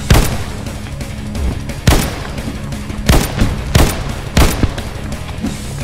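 Bursts of assault rifle fire in the Slendytubbies shooter game, several loud, sharp volleys spaced a second or so apart over a steady backdrop of game ambience.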